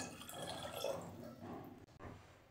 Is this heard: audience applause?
no